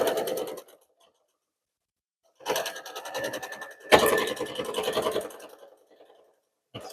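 A sewing machine stitches quilt binding with a shallow quarter-inch seam using a quarter-inch foot with guide, running in short buzzing bursts separated by silent pauses, close and moderately loud.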